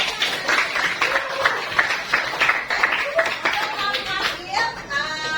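A classroom of students claps together, brisk overlapping hand claps of moderate loudness close by, with voices mixed in.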